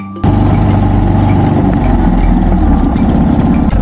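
A motorcycle engine idles steadily and close by, kicking in after a brief quiet moment and holding a low, even rumble for the adventure ride.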